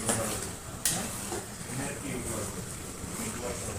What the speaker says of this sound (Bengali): মাংসটা ঢেলে দিয়েছে, ভালো করে কষাবে।